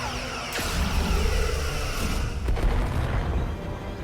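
Starship weapons in a Star Trek video game fire with two sharp zaps over a deep rumbling boom, a steady low drone continuing throughout.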